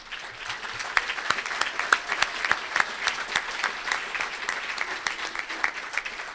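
Applause from the audience at an annual dinner, a dense, steady clapping from a large room that carries on without a break.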